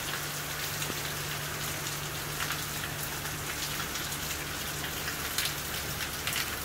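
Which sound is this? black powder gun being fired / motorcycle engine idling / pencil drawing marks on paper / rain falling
rain falling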